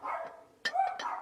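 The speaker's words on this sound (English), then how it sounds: "Now, the dogs are barking." A couple of dogs bark in short, quick yaps, a brief burst of two or three barks at moderate distance in an indoor setting.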